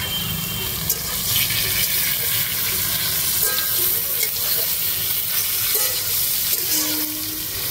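Mixed vegetables with peas fry in a pan, giving a continuous broadband sizzle, close and steady, with occasional faint clinks and stirring.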